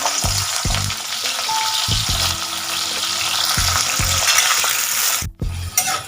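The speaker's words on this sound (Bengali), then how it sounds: "শুক্তোর করলাটা আমি একটু ভেজে নিই" Bitter gourd slices sizzle in hot oil in a home kitchen for Bengali shukto, a loud steady hiss broken by a few scraping stirs of a spatula, with no one speaking.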